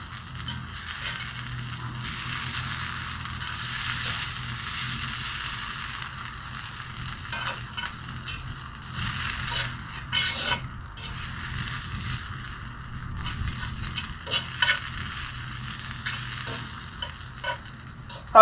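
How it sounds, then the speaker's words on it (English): Barbecue sauce sizzles with chicken and onions on a grill, a steady, close, crackling hiss broken by occasional scraping and stirring clicks, with no talking. "That barbecue sauce is sizzling right now."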